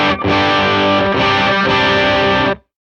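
An electric guitar plays through a boost pedal stacked with a Sovereign pedal, giving a creamy driven tone with a mid push. A few close, loud strummed chords ring out over roughly two and a half seconds, then cut off.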